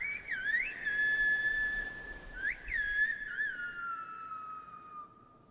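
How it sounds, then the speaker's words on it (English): Whistled speech in the style of el silbo, the whistled language of local islanders: a loud, clear melodic whistle gliding up and down in pitch, with a sharp break midway before trailing off into a fading, steady tone. "it's actually a whole way of speaking using whistles"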